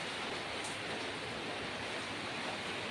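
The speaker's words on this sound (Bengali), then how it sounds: "এই দেখো বৃষ্টি হচ্ছে" A steady, even hiss of falling rain, faint and continuous, with no voices or other distinct sounds.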